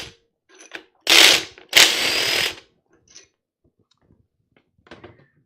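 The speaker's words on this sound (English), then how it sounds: "Craftsman impact driver. Love that thing too." A Craftsman impact driver fires two short, loud bursts about a second apart while the work is a Jeep 4.0 engine build in a garage. Quiet clicks and handling noises come before and after the bursts.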